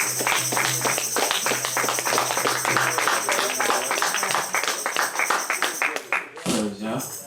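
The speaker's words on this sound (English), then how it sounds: "Keep them hands clapping." Rhythmic hand clapping keeps a steady beat through a lively worship song gathering, with voices singing and talking over it before the claps drop out near the end.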